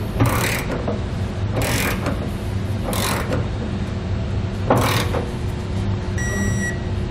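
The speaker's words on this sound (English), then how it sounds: "I'm going to come back with a torque wrench, and I'm going to torque all my hardware down" A torque wrench tightening bolts on base rails in a 2014 Ram 2500 truck bed: four separate loud bursts of ratcheting clicks with pauses between them, ending in a faint electronic beep, no talk.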